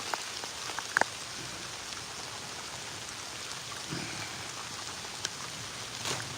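Heavy rain pours down outdoors in a dense, steady hiss with scattered sharper drips, continuous and fairly close throughout.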